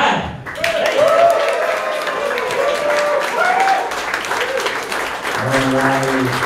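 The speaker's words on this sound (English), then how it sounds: "Let's keep those claps, keep going" Sustained audience applause and clapping fills the room at a bodybuilding-style contest evening, steady and dense throughout, with a speaker's amplified voice running over the crowd.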